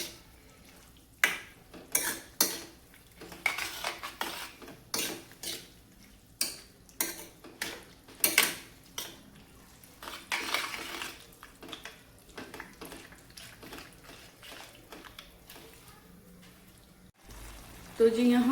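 A spoon stirs a curd and cream mixture in a pot with repeated light metallic scrapes and clinks in an uneven rhythm, close and fairly quiet, with some speech over it.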